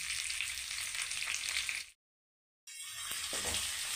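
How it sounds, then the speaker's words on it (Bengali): Three chopped medium onions with cashews and salt sizzle steadily in hot oil in a pan, a bright continuous frying hiss that cuts out briefly midway and then resumes alone. "পেঁয়াজটা পিঙ্ক কালার করে ভাজতে হবে।"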